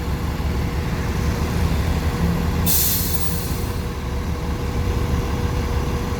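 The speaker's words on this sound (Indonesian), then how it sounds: "Bus pariwisata ya, bus Blue Star ini," A Blue Star tourist bus, a Jetbus 5, arrives with a deep, steady engine rumble. Midway a single sharp air-brake hiss bursts out, then the engine idles on close by without speech.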